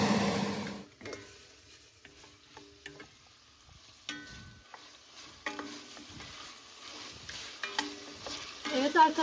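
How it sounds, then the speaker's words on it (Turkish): Quiet sizzling of chicken frying in oil in a pot, with faint stirring scrapes and small clinks throughout. "Şimdi içine etlerimi önce atıp kızartacağım."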